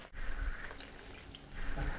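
Water pours into a pan with a low, gushing splash and a faint trickle, quiet and close, fading briefly midway before a second pour.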